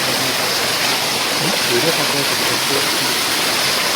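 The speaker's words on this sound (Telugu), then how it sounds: "ఒక బండ రాయి మేయించి పడుతున్న మన జలపాతాన్ని మనం చూడొచ్చు." Steady, dense rushing of a waterfall pouring over a large rock, a constant broadband roar with no breaks, heard fairly close.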